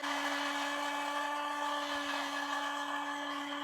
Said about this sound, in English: you need a blender to proceed with such amazing home remedies when you're at home